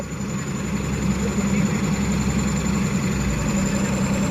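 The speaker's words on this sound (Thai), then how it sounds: "เฮ้ยติดเครื่องได้แล้ว" An engine that has just started keeps running at a steady idle during a late-night recovery effort, giving a continuous loud low rumble with no talking over it.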